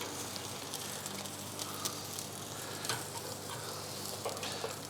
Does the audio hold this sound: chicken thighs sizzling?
yes